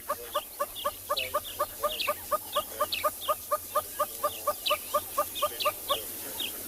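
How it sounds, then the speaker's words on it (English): A red-billed hornbill calls overhead in a fast, evenly spaced series of clucking notes, going on steadily over faint ambient outdoor noise on a South African safari. "that is the sound of the red-billed hornbill just above us"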